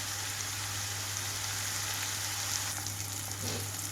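Chopped tomatoes fry in a pan over a medium flame with a steady soft sizzle like light rain, moderately close, and a faint low hum underneath, with no talking.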